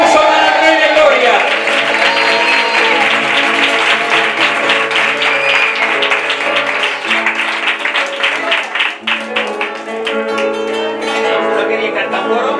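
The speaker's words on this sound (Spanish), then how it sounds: "Un aplauso para el Rey de Gloria." Guests at a wedding ceremony applaud warmly while sustained music with tonal harmonies plays, the clapping blended under the music throughout.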